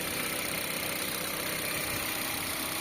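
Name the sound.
Mitsubishi Xpander 1500cc four-cylinder engine idling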